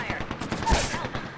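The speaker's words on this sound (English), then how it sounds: "Someone shooting at me" Rapid automatic gunfire rattles in bursts during an Apex Legends firefight, close and loud, with a player's voice briefly mixed in.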